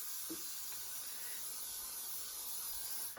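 A steady, close hiss of spray runs continuously for a few seconds, then cuts off abruptly at the end.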